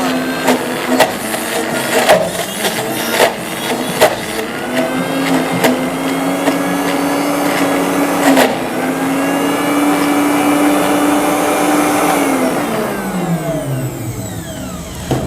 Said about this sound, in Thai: อันนี้ก็จะเป็นเสียงประมาณนี้นะคะสำหรับเวลาที่เรา ปั่นอะไรที่เหนียวเหนียวหนืดหนืดนะ